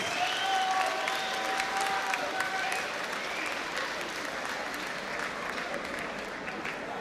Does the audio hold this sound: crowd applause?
yes